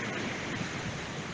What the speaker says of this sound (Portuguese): o barulho das ondas do mar